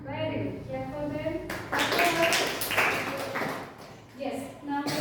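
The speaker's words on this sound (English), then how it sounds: "Clap for them." A classroom of school students clapping together for classmates, a broad burst of applause swelling midway and continuing loudly, with a voice heard before it starts.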